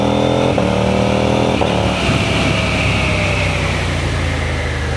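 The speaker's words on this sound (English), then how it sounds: "Let's give it a little bit of throttle again." A 2026 KTM 990 RC R motorcycle with a homemade exhaust delete revs loud and close, the throaty engine note climbing and holding under open throttle, with no voices.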